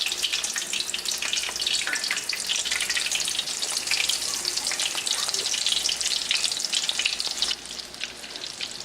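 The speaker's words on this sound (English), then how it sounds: "you can now start to fry your coconut shrimp" Coconut shrimp frying in hot grease, a steady dense sizzle that crackles evenly throughout, close and loud, thinning slightly near the end with no voices.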